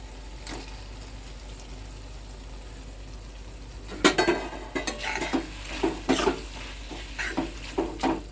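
Prawns are stirred into a masala for kolambi masala in a pan. A soft, steady hiss fills the first half, then a series of close spoon scrapes and clatters follow in an uneven rhythm.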